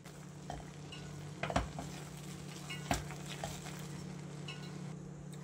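Wheat flour is stirred quickly into boiling water with a spoon, giving a faint, soft scraping and bubbling sound with a couple of louder knocks against the pot and a low steady hum underneath.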